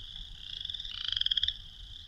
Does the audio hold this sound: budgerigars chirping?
no